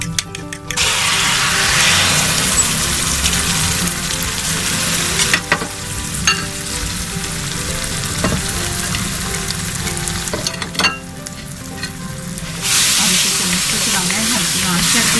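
Beaten eggs poured into sizzling roasted semolina halwa in a hot pan, a loud steady frying hiss with scraping stir strokes throughout, briefly dipping and swelling again.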